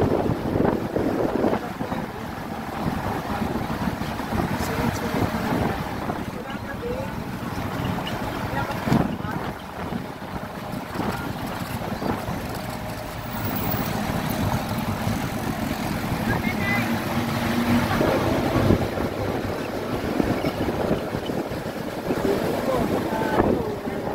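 Steady wind buffets the microphone over the rush of sea water and a boat's rumble, with people talking now and then.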